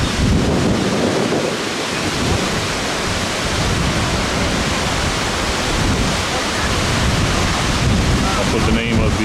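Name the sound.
strong wind blowing on microphone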